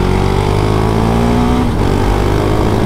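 A KTM Duke 690 R motorcycle engine revs loud and close, holding a steady buzzing note before its pitch dips and climbs again, with no talk over it.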